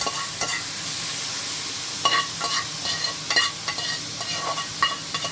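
Seasoned chicken for curry sizzles steadily in a hot pan, a loud continuous crackle broken by scraping stirs and occasional clinks, up close.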